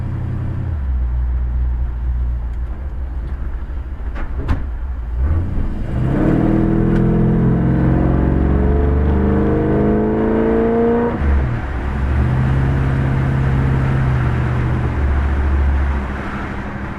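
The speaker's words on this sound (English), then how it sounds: "once I turn this corner, I'll accelerate hard up to 45 or 50 or so" A 1962 Chevrolet Biscayne with an aftermarket muffler accelerates hard, its exhaust note rising in pitch through a long pull, easing briefly, then climbing again, loud and close.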